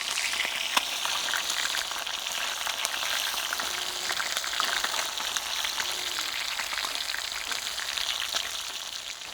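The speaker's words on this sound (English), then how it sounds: "Now you only need to cook this for about 4 minutes, 5 minutes." Fish sizzles in a hot pan with a steady, dense crackle and occasional sharper pops, close and continuous throughout, with no voices.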